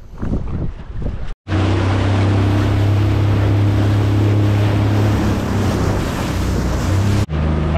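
A motorboat cruises along an ocean current line offshore, its steady engine drone loud and continuous beneath rushing water and heavy wind buffeting the microphone, with one brief cutout early on.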